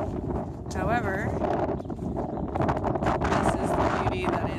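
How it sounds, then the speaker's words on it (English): Strong gusty wind buffeting the microphone outdoors on a frosty farm, a loud continuous rushing roar with a brief squeaky tone and a voice speaking over it. "As I'm sure you can hear, it's ridiculously windy"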